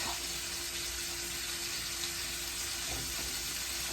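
Ribeye steak sizzling in a pan, a dense, continuous hiss of frying fat heard close up and steady, with no talking over it.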